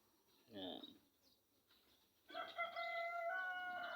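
A rooster crows in the morning countryside of Leyte, Philippines, its long harmonic call rising midway and holding strong to the end, with a brief earlier bird call and some talk nearby.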